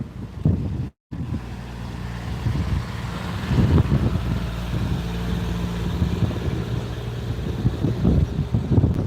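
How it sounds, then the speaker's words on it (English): Gusty outdoor wind buffets the microphone as a steady low rumble that swells and eases across the whole stretch, broken by a single split-second dropout near the start, with no one talking. "Waiting for the wind to stop."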